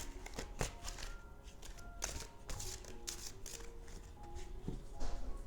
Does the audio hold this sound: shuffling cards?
yes